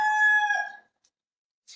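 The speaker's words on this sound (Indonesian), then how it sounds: "Pengen dipotong kali itu ayam." A rooster crows once, loud and close, its long ringing call fading away into near silence.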